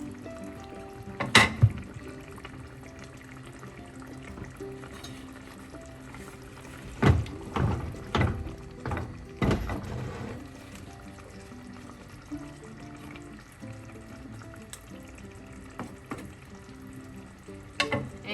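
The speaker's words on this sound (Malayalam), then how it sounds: "നമുക്കെല്ലാം ഒന്ന് നല്ലതുപോലെ ഇളക്കി കൊടുക്കാം" A sardine pepper curry gets stirred in a pot, with a few scattered, clattering stir strokes and utensil knocks over a soft, quiet simmer.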